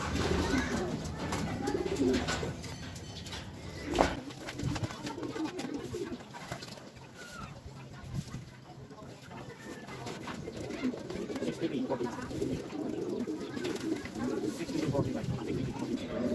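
Racing pigeons coo steadily at a loft during a Philippine derby race after the birds return from Pio Duran, under ongoing conversation.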